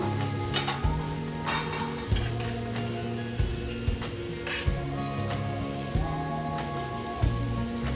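Boiled eggs being stirred through a sizzling onion curry gravy in a pan, a steady simmering crackle with spoon scrapes and knocks recurring every second or so, close and alone with no talk.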